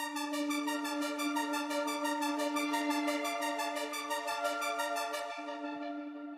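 Three atmospheric texture layers for a jump-up drum and bass intro stack into a bright, pulsing sustained pad with a rapid tremolo flutter that drops away near the end, steady and with no talking.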